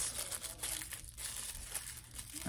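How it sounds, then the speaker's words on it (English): Tissue paper crinkles and rustles while a LOL Surprise Tweens doll is unboxed, a close, busy run of crackling paper handling with no talking. "this one also has a little tissue paper set up in there."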